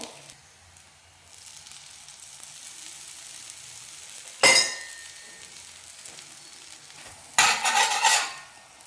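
A cucumber roti cooks on a lightly oiled pan over a medium flame, giving a faint, soft sizzle broken by two sharp bursts of clattering hiss; no one speaks.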